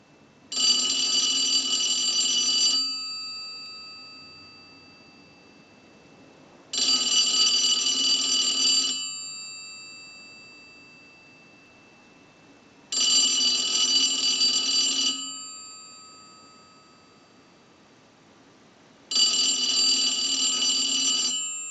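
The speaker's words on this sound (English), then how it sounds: "use the analyzer and send a ring cycle like you were getting a call" A three-slot payphone's electromechanical bell rings in four loud, evenly spaced bursts of about two seconds each, separated by quiet gaps, with no voices over it.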